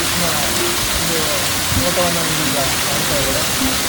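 Chakkebande waterfall near Gudekote in Kudligi taluk, Vijayanagara district, roars with a steady, loud rush of falling water, constant throughout. Faint voices sit beneath the noise.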